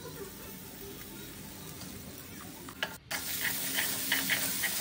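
Chopped onion and ginger-garlic paste fry in a pan for dahi bhindi, a steady broad sizzle with light stirring scrapes, a brief dropout near the middle, then a slightly brighter crackle.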